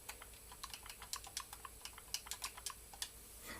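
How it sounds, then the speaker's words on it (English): Rapid, irregular keystrokes on a computer keyboard, close and crisp, with uneven bursts of clicks and short pauses and no voices. "I know I have the weirdest way of typing these"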